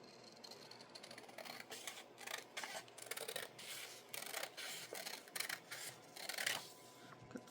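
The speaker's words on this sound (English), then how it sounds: "I'm actually going to end up cutting it here." Quiet close snipping of scissors cutting through a paper sewing pattern, a steady series of short crisp cuts with faint rustling of the paper in between.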